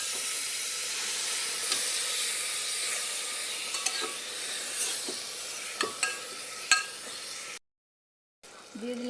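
Mutton sizzles softly in a pan while being stirred, with a steady hiss of frying broken by scattered clinks of a utensil against the metal, ending in a brief silence.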